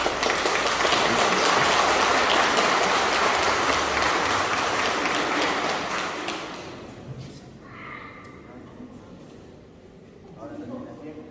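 Congregation applauding during a traditional church wedding at San Juan Bautista in San Juan Mixtepec: dense, loud clapping for about six seconds that fades away, after which a voice speaks over the quieting room.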